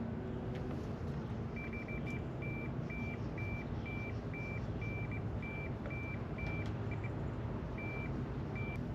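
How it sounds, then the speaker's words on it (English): A steady series of short, high electronic beeps from a capacitor test on a Lincoln Weldanpower welder repeats at a regular pace over a constant low hum, with no talking. "You get the beep on and then off, which is what it should do."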